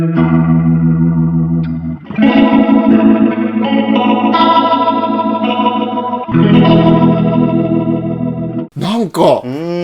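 Electric guitar played through a BOSS RT-2 Rotary Ensemble pedal, sustained chords swirling with a warm rotary-speaker chorus and slight grit, changing chords a few times before a warbling pitch-swept tail.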